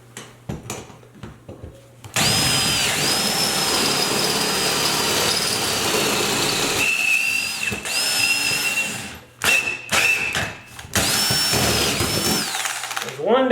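A power drill whines loudly and steadily as it bores into a ceiling while canless LED lights are installed, running in long bursts with short pauses and a brief stop near the middle.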